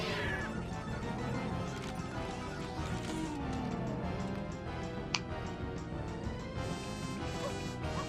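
A person imitates a cat with a high, drawn-out meow that rises and falls over busy Super Mario Sunshine gameplay noise, with a sharp click partway through; no clear speech.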